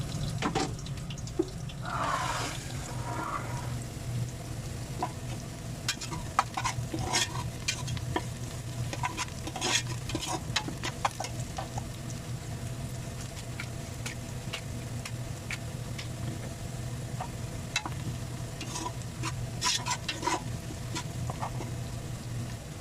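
Onions sizzle and crackle steadily in a hot pan, slowly browning for spicy chicken, with occasional scraping and stirring clinks from a utensil; no one speaks.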